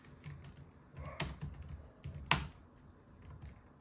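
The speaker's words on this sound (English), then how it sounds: "Let me type here." Keys clicking on a laptop keyboard while entering a username during an Ubuntu install, soft and sparse with a couple of sharper taps, close by in a quiet room.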